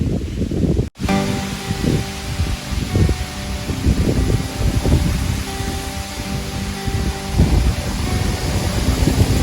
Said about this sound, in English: I just got to show you this wind that we're having this evening.